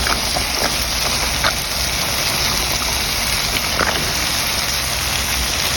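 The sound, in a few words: potatoes and beans sizzling in a pan with dried fish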